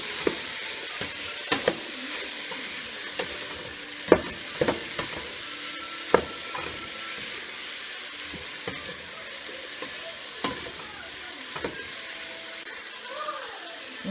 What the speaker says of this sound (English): So the mushrooms are going to sweat and it smells good right now.